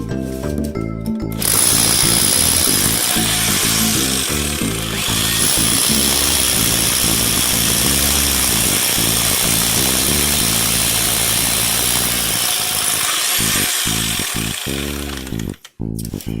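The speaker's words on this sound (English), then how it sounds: "we're currently drilling holes down here at the bottom where the footing is" Loud, continuous grinding whine of a power drill boring into a concrete footing, running steadily up close before stopping in short bursts near the end.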